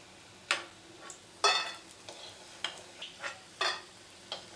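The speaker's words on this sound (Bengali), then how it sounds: "বড়াগুলো ভাজা হয়ে গেছে, এবার এগুলোকে আমি তুলে নেব ছেঁকে ছেঁকে, তেল থেকে ছেঁকে ছেঁকে এরমভাবে তুলে নেব" Masoor dal fritters in hot oil give a soft, steady sizzle, broken by several sharp scraping clicks as they are lifted out with a strainer. Nobody speaks.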